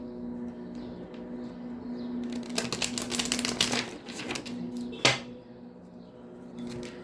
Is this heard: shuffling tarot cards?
yes